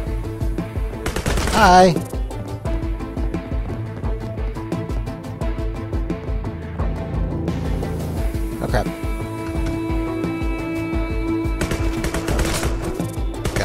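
Bursts of gunfire from a newly picked-up gun in Sword With Sauce, crackling in rapid clusters under game music and effects, with a person talking briefly.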